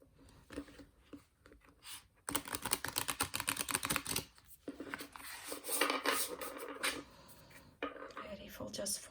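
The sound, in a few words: riffle shuffling a deck of oracle cards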